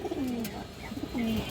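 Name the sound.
Pakistani Kaldam high flyer pigeons cooing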